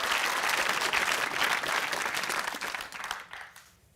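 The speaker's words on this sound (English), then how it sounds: "a round of applause for Dave" A studio audience on a BBC TV quiz show claps in a warm, dense round of applause that holds steady and then tapers off to silence at the end.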